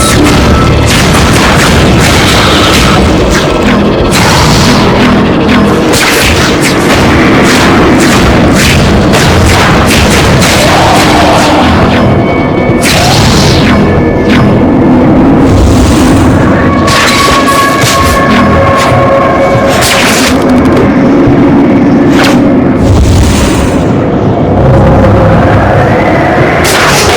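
Loud, repeated booms and blasts from bombs in the Spider-Man: Web of Shadows video game, dense and overlapping over nearly half a minute amid constant action noise.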